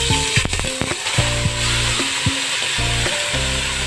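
Beef pieces hitting lightly greased hot oil in a cooking pot, a steady close sizzle with scraping and clanking knocks from a spoon and pot, over a low rhythmic hum.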